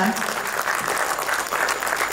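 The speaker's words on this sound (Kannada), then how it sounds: "ಒಂದು ಜೋರಾದ ಚಪ್ಪಾಳೆಯ ಮೂಲಕ" Dense audience applause at a T-shirt and song launch event, steady and loud throughout, a crowd clapping together without pause.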